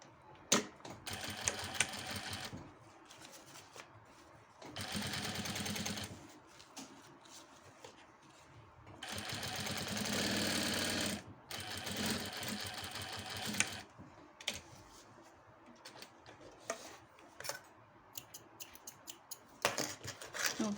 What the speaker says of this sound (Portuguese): Joga a costura para baixo e faz um pesponto aqui.